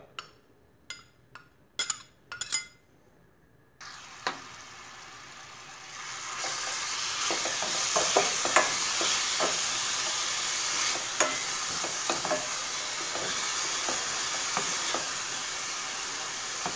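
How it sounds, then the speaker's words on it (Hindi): Onions dropped into hot oil in a pan: a few clinks of utensils first, then a sudden sizzle that swells into a loud, steady frying hiss, broken by scattered stirring taps. "ऑयल गरम होने पर इसमें प्याज डाल देना है"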